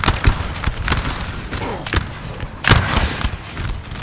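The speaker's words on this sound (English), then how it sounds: "Fire when ready, Laguerre." Musket volleys crack out in Napoleon Total War during a historical battle at Lubeck in 1806: a loud, ragged fusillade of overlapping shots, with bigger bursts near the start, middle and end, over a rumbling battlefield din.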